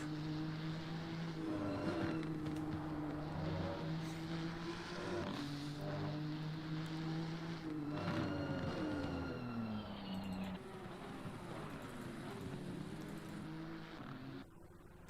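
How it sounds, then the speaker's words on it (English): A race car in Assetto Corsa Competizione at Laguna Seca: a loud, continuous engine roar that climbs in pitch, drops sharply at several gear shifts, and crackles with small backfires, heard from behind without talk. "The small backfire of the engine, that sounds sick."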